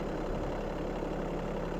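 A Bobcat CT1025 compact tractor's engine running at raised RPM, a loud, steady, close mechanical roar with constant low rumble and no variation throughout.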